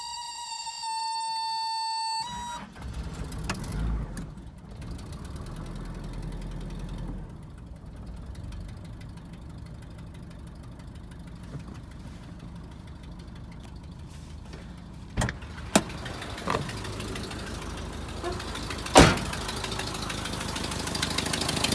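A late-1980s Toyota Sunrader 4x4 motorhome engine cranks and catches after a short tonal chime, then settles into a quiet, rough, knocking idle with a few sharp clicks and clunks scattered through the steady hum.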